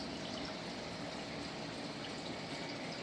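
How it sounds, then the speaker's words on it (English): Water runs continuously back into a garden pond behind a jasmine bush, a steady close trickle and splash filling the whole stretch with no voices over it. "that water dumps in, comes on down, filters on around,"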